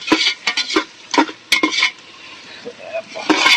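Onions sautéing in a pan for chicken biryani, with repeated bursts of stirring and scraping against the pan over a faint sizzle, close and fairly loud.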